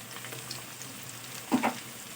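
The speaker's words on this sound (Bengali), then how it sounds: "আদা রসুন বাটাটা পেঁয়াজ আলুর সঙ্গে পেঁয়াজ লঙ্কা রসুন আরও ভালো করে ভাজা ভাজা করে নেব" Ginger garlic paste sizzling in hot oil with onion, potato and green chili in a pan, a steady low frying hiss with a brief louder stir scrape near the end, no voices.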